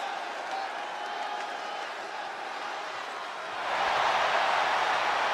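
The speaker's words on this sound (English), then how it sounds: "the crowd is very excited for this hardcore competition" The crowd at a televised hardcore wrestling match roars steadily, then surges louder with cheering and clapping partway through.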